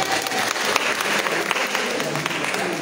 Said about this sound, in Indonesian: tepuk tangan untuk Lina